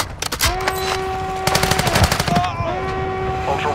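Sustained bursts of machine gun fire ring out in a DMZ video game match, rapid loud volleys with tonal in-game sound effects running underneath, and no talking over them.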